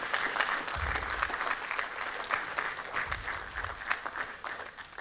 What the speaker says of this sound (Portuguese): Pedia uma salva de palmas para a finalização do ato de adesão.